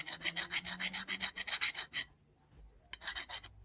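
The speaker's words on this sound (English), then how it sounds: "just going to hit it with the hand file just to clean up some of the sort of rougher bits" A hand file rasps across the inside edge of a metal tool head in quick, close, repeated strokes, then pauses briefly before another burst of filing.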